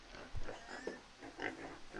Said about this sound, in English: Pigs are not happy in the pen.